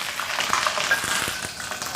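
Ginger and scallions frying in melted lard in a wok, giving a steady, dense sizzle with faint crackles throughout, close and alone.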